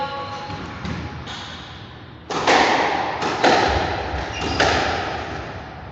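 A squash rally on an indoor court: a handful of sharp, echoing ball strikes and thuds off the walls, spaced irregularly over a roomy background hum.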